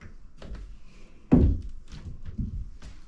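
A panel door in a 1943 house shuts with one solid, close thunk, followed by a softer knock and light taps in a quiet room.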